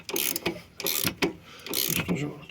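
Turning a bolt with a tap wrench handle while replacing the rear beam bushings on a Citroen C4, heard as repeated loud metallic ratcheting strokes in a close, steady rhythm.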